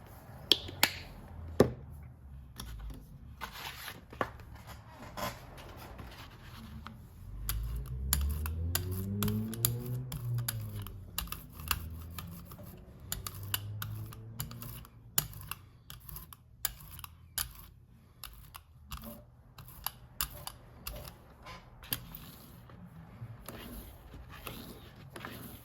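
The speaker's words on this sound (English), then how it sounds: "that's the label paper curling up as I add paint to it" Paper label curling as Liquitex iridescent graphite paint is brushed onto it gives off irregular sharp clicks and crackles, faint and close, scattered over a quiet background with a softer low murmur midway.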